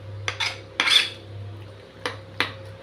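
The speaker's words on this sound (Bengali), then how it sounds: "এবার এটাকে ভালো করে নেড়ে চেড়ে নিচ্ছি।" A spoon clinks and scrapes against a bowl while batter seasoned with salt, sugar, turmeric and nigella seeds is stirred, a few sharp metallic taps over a low steady hum, close and moderately loud.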